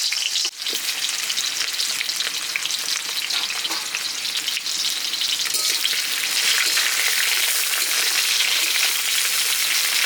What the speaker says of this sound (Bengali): আমি পেঁয়াজটা সামান্য ভেজে নিয়েছি